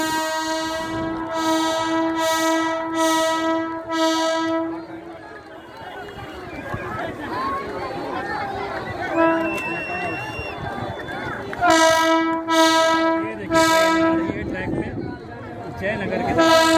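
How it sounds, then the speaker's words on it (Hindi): A train pulling into Jaynagar station on the India–Nepal line at its inauguration, sounding repeated loud horn blasts at the start and again later, with crowd noise and a voice speaking between the blasts. "अहाँ ट्रेन आबि रहा है तो देख सकै छी"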